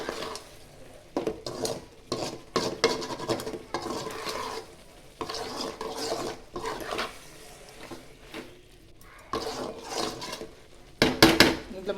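A spoon scrapes and clatters against a pot of fish curry with tomato in irregular bursts of stirring, some sharp clinks, with a faint sizzle between strokes.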